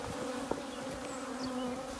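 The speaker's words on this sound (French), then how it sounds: "Les butineuses, elles sont déjà revenues sur place." Forager honeybees buzz in a dense, continuous drone around an empty hive site, many insects humming close by at a steady level.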